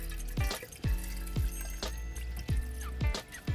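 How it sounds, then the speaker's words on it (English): Black cherry plum juice is poured into a container in a run of gulping glugs, about six of them in quick, regular succession, close and clear over a steady liquid trickle. "All right, so I'm gonna pour some of that in there."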